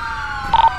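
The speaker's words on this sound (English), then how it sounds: "these guys still got their sirens going on" Police car sirens in the game GTA 5 (LSPDFR mod, LASD patrol) wail steadily in the background throughout, a sustained electronic tone with a brief louder warble near the end.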